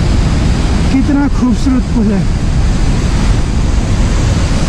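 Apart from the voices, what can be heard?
glacier meltwater stream flowing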